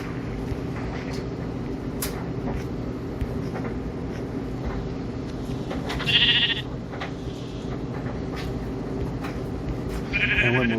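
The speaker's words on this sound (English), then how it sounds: "we got sheep over here" Sheep bleating in Minecraft, a video game, with two short bleats, one a little after six seconds and another near the end, heard over a steady background hum.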